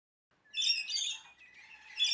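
Rainbow lorikeets screech and chatter while being fed, a burst of shrill, harsh squawks up close, then a brief lull before another sharp call.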